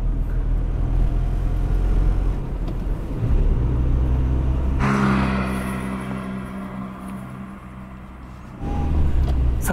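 A Toyota Starlet EP71 Soleil L Extra engine hums steadily while driving, then rises in pitch as it revs up midway, with road noise throughout and no talking.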